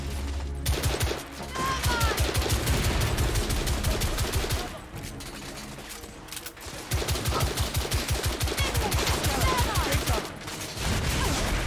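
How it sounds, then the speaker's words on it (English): Thermite rifle gunfire in The Order: 1886, rapid repeated shots in long sustained volleys with brief pauses between them, loud and close, with a player's voice underneath. "Oh, that one's the thermite rifle."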